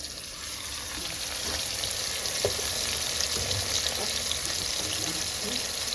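Fish frying in a very hot pan gives a loud, continuous crackling sizzle that holds steady throughout, with a few faint clinks underneath.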